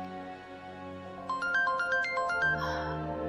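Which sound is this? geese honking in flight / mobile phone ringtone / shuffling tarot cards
mobile phone ringtone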